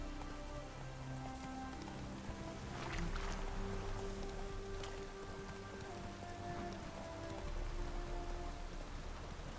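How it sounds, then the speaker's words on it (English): Steady, dense heavy rain in The Witcher 3 video game, hissing and pattering throughout, with a low hum underneath and faint tonal sounds drifting in the background. "It's raining buckets!"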